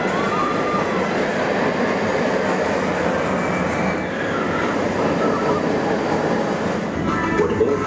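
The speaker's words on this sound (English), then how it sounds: "Brilliant roller coaster" A roller coaster at Alton Towers theme park runs past with a continuous loud rumbling roar of wheels on track and faint squeals, heard up close, while people talk in the background.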